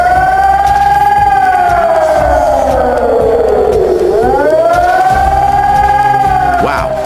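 A loud distress alarm siren wails in long sweeping tones, rising and falling in pitch with a deep dip in the middle before climbing again. It sounds close and steady, with no talk over it.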